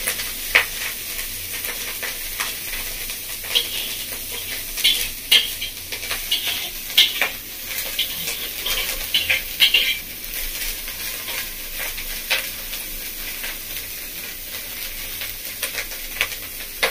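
Small shrimp fry in a pan, crackling and sizzling steadily for a long stretch, with frequent scrapes and clinks from stirring, close and without speech.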